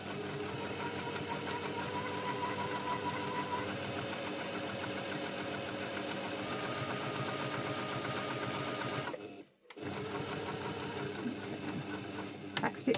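A home sewing machine stitches a fabric key fob at a long stitch length, giving a steady, close mechanical whir with fast rapid ticking that runs continuously, stops briefly, then resumes.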